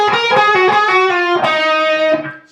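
A distorted electric guitar plays a harmonized lead lick, a quick run of bright sustained notes with a slide near the end, loud and alone.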